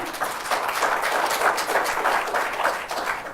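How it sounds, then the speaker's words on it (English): Audience at a Bermuda tourism forum applauding, a dense, steady wash of many hands clapping that holds at an even, fairly loud level for the whole stretch. "So I think you should give yourselves a round of applause."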